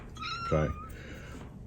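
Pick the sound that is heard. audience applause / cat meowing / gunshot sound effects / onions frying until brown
cat meowing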